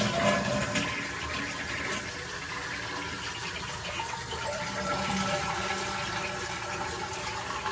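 Water rushing and gurgling steadily through an old toilet with a Universal Flow valve, a constant loud flow with no voices.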